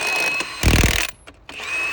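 Power tool tightening axle nuts, a short whirring burst with a rattling impact texture, then a brief pause before a steady high whine resumes, close and moderately loud with no talk.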